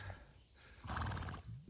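A donkey in a paddock near a village in the countryside gives one short, harsh bray from nearby, surrounded by quiet outdoor ambience and no speech.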